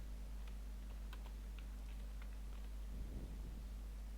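Steady typing on a computer keyboard while writing TypeScript code, a soft, quiet patter of key clicks in an uneven rhythm over a low electrical hum, with no talking.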